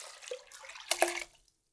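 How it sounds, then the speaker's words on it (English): Water pours into a pot of potatoes in a short splashing gush that swells, then cuts off into silence. "you want to cover them with just enough water"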